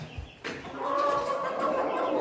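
Roosters cluck softly and steadily close by as they are fed dry onions, a few rising calls layered over a low murmur of fowl, with no talk heard.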